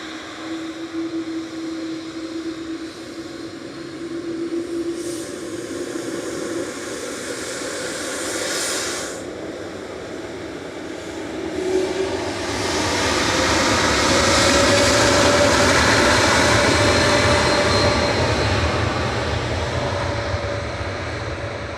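A Boeing 787-8 Dreamliner passes at Manchester Airport as a broad jet roar that swells steadily over the second half, loud and sustained, with no talk.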